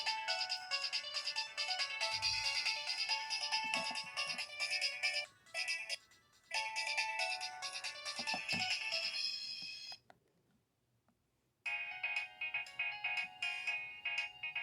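Nokia ringtone melody playing from a phone speaker, a bright electronic tune in repeated phrases with brief pauses and a gap of silence before it resumes.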